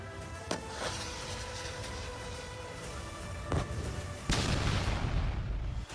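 Anti-tank guided missile strike during the AMOGH Fury military exercise: a few sharp, heavy blasts, the last one followed by a sustained rolling rumble, with no voices.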